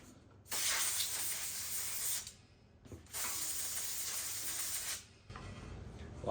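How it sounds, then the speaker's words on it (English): Compressed air from a hose blasts around the base of a small-block Chevy 350 engine that sat for 15 years, in two loud, close hissing bursts of about two seconds each, with a short pause between and a quieter hiss after. "I'm gonna get the air hose and blow off around the base of this"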